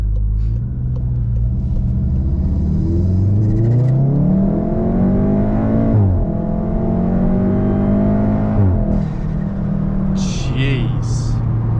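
Volkswagen Golf R with an IE Stage 1 tune revving hard, a loud close engine note rising and falling through several pulls with shifts, ending in sharp pops from the exhaust.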